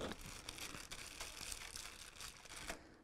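Crinkling plastic of a biscuit packet being cut open with scissors, with bursts of rustle and crackle running steadily through the whole stretch and no voices.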